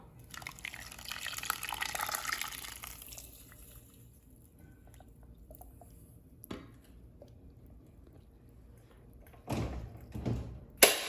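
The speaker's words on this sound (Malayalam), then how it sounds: "അതും കൂടെ ഒന്ന് ഒഴിച്ചു കൊടുക്കാം മീനിലോട്ട്." Ground masala paste poured into a fish curry, giving a wet, soft splashing pour near the start, followed by a quiet stretch and then a couple of louder knocks and squelchy sounds close by.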